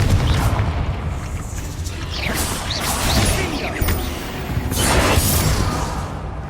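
A Confringo fire spell bursts against a spider in Hogwarts Legacy, producing a loud, sustained rumbling explosion with whooshing, crackling debris that swells and fades over several seconds, with no talk.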